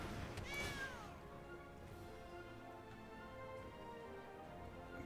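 A cat meows loudly in a Magic card game, one drawn-out mew near the start, followed by soft background game music with no talk.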